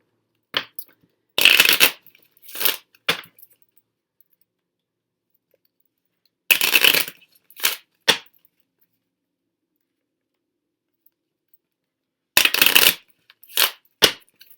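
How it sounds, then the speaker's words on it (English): Kipper fortune-telling cards shuffled by hand in three separate bursts, each a quick riffling rush followed by a couple of short taps, with silence between, close and clear. "So I like to shuffle 3 times that way, and then I like to overhand 6 times"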